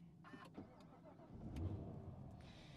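A Dodge Demon 170 starter whirs briefly before the engine fires and swells into a loud, rumbling idle nearby, with faint sounds around it.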